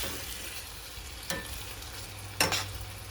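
A soft, steady sizzle of garlic shrimp frying in a pan, with two brief louder spatters or stirring scrapes over the hiss.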